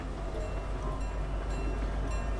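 A train in the Fortnite video game rumbles along steadily with a faint rhythmic clatter, continuous and fairly close, with no voices over it.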